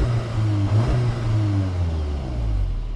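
A Seat Leon Cupra gendarmerie car starts and revs, its engine rising and falling in a strong, close mid-pitched roar with no talk over it.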